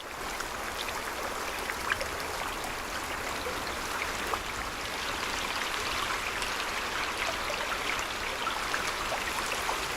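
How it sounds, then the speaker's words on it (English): Steady rain in the hunting video game Way of the Hunter 2 fills the scene with a dense, even hiss of falling water, like a stream or downpour, with scattered faint drips and no talking. "they have changed the way that the sound both functions and sounds while it rains"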